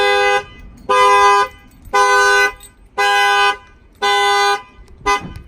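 A 2019 Ram 2500 car horn alarm, set off by a glass-break sensor, blaring in loud, regular honks, five long blasts with short gaps, then the start of another, close by.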